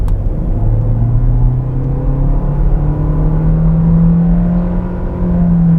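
An MG 3 Hybrid+ 2024 hatchback pulls away from a turn, its engine tone rising steadily in a smooth climbing drone over constant road and cabin rumble, loud and close with no talking.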